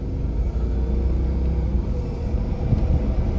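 A 2011 Audi S6 with a 5.2-litre Lamborghini-derived V10 idles close by, a deep, steady engine rumble that holds level with slight surges, and no one speaks.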